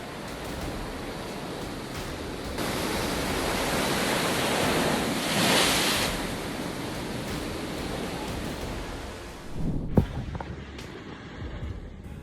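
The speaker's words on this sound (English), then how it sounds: "Cyclone Gulab slammed into Andhra Pradesh with giant waves pounding the coastline" Giant waves driven by Cyclone Gulab pounding the Andhra Pradesh coastline, a dense roaring wash of surf that swells and surges continuously, with a heavier crash near the end.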